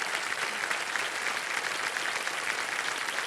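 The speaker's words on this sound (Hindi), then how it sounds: "तालियों के साथ एक बार फिर उनका स्वागत किया जाए।" Steady, sustained applause from a TV game show studio audience fills the clip, even and fairly distant, with no voices over it.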